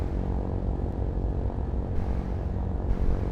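A propeller airplane taxiing on the ground in a flight game, its engine droning steadily and loudly throughout with a constant low rumble and no voices.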